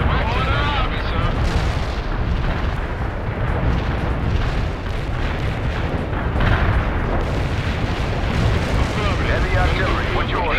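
Continuous heavy blasts and rumbling booms from an artillery and mortar strike in the World in Conflict Soviet Assault war game, loud and dense throughout with overlapping detonations and battlefield chatter underneath.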